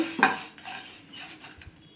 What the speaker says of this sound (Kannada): ಮೆಂತ್ಯ ಹಾಕ್ಕೊಳ್ತಿದ್ದೀನಿ ಜೀರಿಗೆ ಬೇಳೆ ಇದನ್ನೆಲ್ಲ ಚೆನ್ನಾಗಿ ಫ್ರೈ ಮಾಡ್ಕೋಬೇಕು